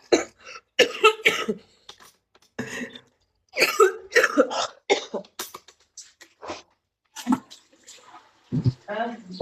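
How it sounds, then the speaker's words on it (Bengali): Someone with a cold coughs repeatedly in close, harsh bursts separated by short pauses, with some throat clearing mixed in. "কি পরিমাণ কাশতেছি, খেয়াল করছিস তুই আমার কত পরিমাণ ঠান্ডা?"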